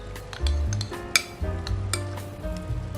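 Prawns are mixed in a curry marinade with black pepper, giving close, wet stirring and sloshing with intermittent clinks of a utensil against the bowl.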